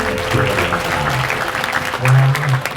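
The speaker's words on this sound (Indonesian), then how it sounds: "Tepuk tangan." Audience applause at a wayang kulit shadow puppet performance, a brief clapping wash from a crowd with low hum and background murmur underneath.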